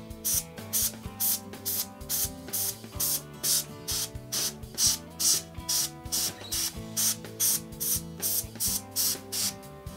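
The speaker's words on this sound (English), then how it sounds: "apply short bursts with the duster to blow away dust from the filter" A can of duster sprays short, repeated bursts of air onto a projector filter, each a loud hiss in a quick steady rhythm, while tonal background music plays underneath.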